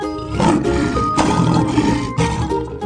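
A lion roars in a 3D animal video game, a loud sustained growling roar in repeated surges over continuous game sound with no talk.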